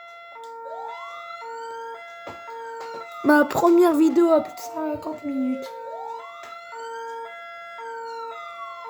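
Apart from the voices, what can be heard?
emergency vehicle sirens in a video game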